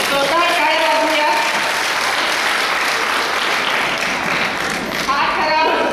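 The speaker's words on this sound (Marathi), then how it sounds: "जोरदार टाळ्या वाजवूया" Loud, sustained applause from an audience at an International Women's Day programme, a dense wash of clapping filling the whole stretch with little change in level.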